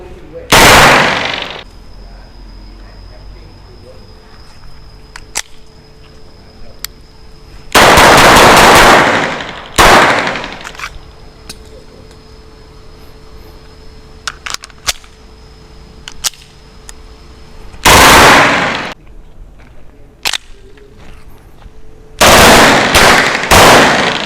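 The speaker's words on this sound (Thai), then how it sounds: "เดี๋ยวยิง ระบบออโต้ธรรมดาก่อนนะฮะ ต่อไปก็ฟัวโต้นะครับ" A Niksan Mini Desert Eagle blank pistol from Turkey fires in loud, sharp bursts and single cracks, with several rapid volleys separated by quiet gaps and a faint electronic whine between shots.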